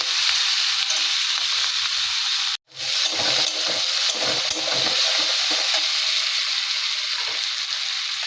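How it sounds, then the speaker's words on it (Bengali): Spices, including a soaked paste of ginger, garlic, chilli powder and cumin, sauté in a pan for tengra fish curry with cauliflower and potato, making a loud continuous sizzle broken by one brief cut of silence. "সেগুলো সব দিয়ে দিলাম, ভালো করে কষিয়ে নেব।"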